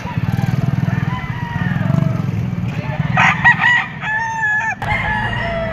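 Rooster crowing at the Padre Garcia gamefowl auction market in Batangas, near and loud, with clucking fowl and crowd murmur around it and a motor idling somewhere behind.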